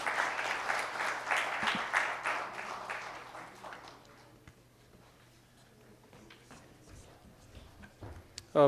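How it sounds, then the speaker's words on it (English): An audience claps steadily for a few seconds, then the applause fades into scattered claps and room quiet. "I'll request for a big round of applause for the panelists"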